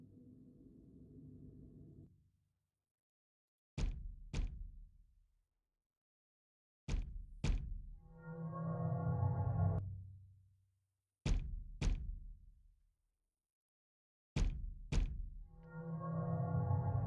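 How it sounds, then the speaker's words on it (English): A door sound effect from a Scratch-made Five Nights at Freddy's clone plays several times: sharp double clicks followed by a heavy low sliding rumble that fades, separated by silent gaps. "Door sound effect."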